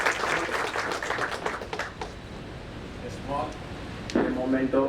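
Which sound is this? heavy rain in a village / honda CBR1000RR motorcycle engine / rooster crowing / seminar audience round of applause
seminar audience round of applause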